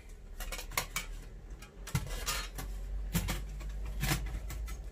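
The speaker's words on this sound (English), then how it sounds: "Let's take this tray out." A metal tray being worked out of a cheap Lixada fire stove gives a string of quiet, close metallic clinks and scrapes, spaced irregularly over a low steady hum.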